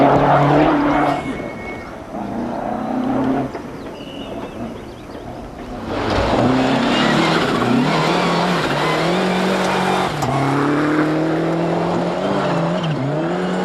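A 1997 X-Works Lancia Delta Integrale rally car drives past on a rally stage, its engine note climbing and falling through gear changes. It grows louder and rougher midway as it nears, and no one speaks.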